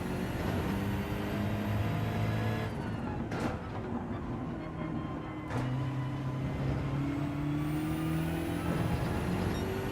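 A BMW race car engine in Gran Turismo 7 drones steadily at high revs, with pitch rising and dropping through gear shifts, loud and constant with no talking.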